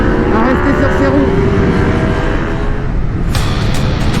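Aprilia RSV4 Factory 1100 V4 sport motorcycle roaring loud and close while ridden, its engine note climbing in pitch through the revs, with a rider's voice talking over it.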